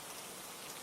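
Steady rain falls in a constant dense hiss, even and close throughout this short stretch, with no voices.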